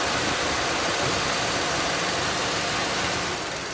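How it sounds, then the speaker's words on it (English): A car engine idles steadily alongside a running radiator cooling fan, a continuous broadband whoosh and low rumble close by, with no speech, on a vehicle having a four-wire lambda sensor heater fault checked (P1115/P1117). "I realise the fan is going and the engine is running"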